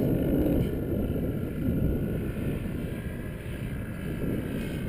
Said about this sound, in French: On a toujours ce moteur quand même qui est un peu trop tiré